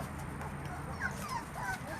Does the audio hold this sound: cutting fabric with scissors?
no